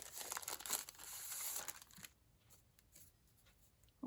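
A plastic packet of card fronts is torn and crinkled open, a short burst of close, bright rustling that falls away into quiet after about two seconds.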